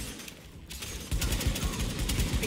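Gunfire in The Division video game, a dense continuous rattle of distant shots and bursts layered over a busy game soundscape.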